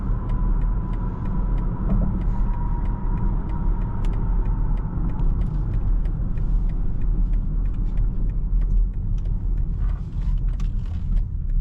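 A 2025 BMW X5 xDrive50e M Sport on the road, heard from inside the cabin as a constant loud low rumble of tyres and drivetrain, with a faint tone fading early and no one talking.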